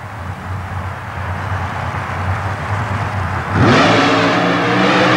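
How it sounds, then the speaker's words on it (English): A nitrous-injected 588 cubic inch Chevy-powered super modified mud racer rumbles loudly at an indoor coliseum event, then bursts into a sharp, rising roar as the throttle opens. "His new driver from Indiana, Paul Shafer, is now behind the wheel of the nitrous oxide-injected 588 cubic inch Chevy-powered machine."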